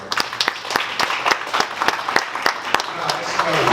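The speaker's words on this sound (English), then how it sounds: "give a round of applause to David, because he's doing an awesome job." A few people at a business event clap in a sparse, fairly slow rhythm, distinct individual claps close by rather than a full crowd, with a voice rising at the end.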